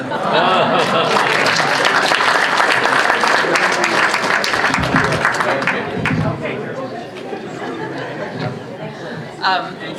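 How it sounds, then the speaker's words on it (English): An audience at a book launch breaks into sustained applause, dense clapping with chatter and a few chuckles, loud at first and tapering slightly toward the end. "Let's all collectively give a big round of applause to the gift that we have in Muhammad Inamullah"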